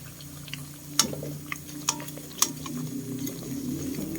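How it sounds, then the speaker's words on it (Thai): Crispy pork belly fries in hot oil, a continuous soft sizzle and bubbling with occasional sharp pops and spatters, close but fairly quiet, with no one speaking. "ทอดหมูกรอบจ้า"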